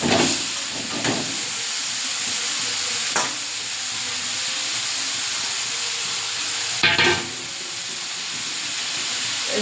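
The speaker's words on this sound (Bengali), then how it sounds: "বেশি ভাজবো না, চিংড়িটা হালকা করে ভাজবো" Prawns fry lightly in a pan with a loud, continuous hiss of sizzling oil, close by, broken by a few brief clatters of a utensil, no talking.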